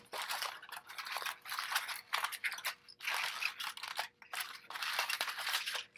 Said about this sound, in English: And I'll use the excess at both ends and crumple that excess around the sealing surfaces.